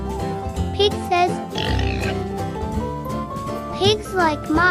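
Pig on a farm oinking and grunting in short bursts, close and fairly loud, mixed with light musical jingles and playful background sounds.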